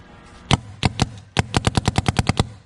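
A Planet Eclipse Etha 2 paintball gun fires close and loud: a few separate shots, then a quick even burst of about ten sharp cracks, with no talking.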